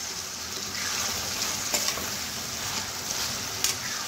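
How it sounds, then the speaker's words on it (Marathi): Leftover brinjal and potato vegetable sautéing in a pan with a steady, close hiss of frying and a few faint stirring scrapes, with no talk. "भाजी थोडी परतवून घेऊया आपण"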